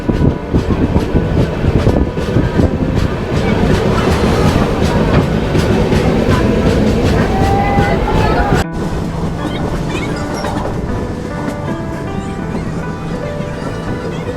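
The 12857 Tamralipta Express rumbles loudly, heard from inside a 2S coach near Ramnagar station. Wheels rattle and clack continuously, and the roar drops to a softer, steady rumble partway through.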